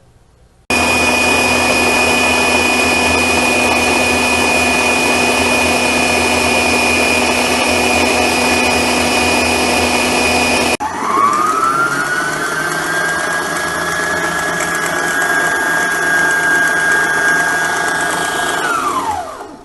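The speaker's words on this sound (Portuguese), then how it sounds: "eu vou ligar a batedeira agora, velocidade baixa." A stand mixer beats Swiss meringue at low speed with a loud, steady motor whine. Partway through, the drone shifts to a different pitch and settles into a smoother hum until it cuts off.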